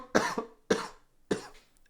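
Three harsh coughs in quick succession, close to the microphone, each a sharp burst trailing off, with brief silences between them.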